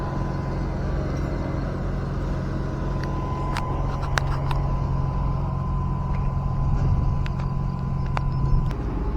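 A truck arrives at a toll-road bridge construction site where pillar concrete is being poured, its engine droning loud and near with a low hum, while sharp metallic clanks from site work ring out in the middle stretch.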